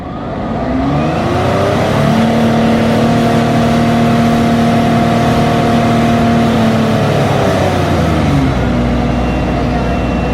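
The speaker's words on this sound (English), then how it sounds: "Just take the revs up and hold them there." Audi A4 2.5 TDI diesel engine in a turbo over-boosting fault, revved up and held at a steady high idle for several seconds with a sustained drone before dropping back, loud and close.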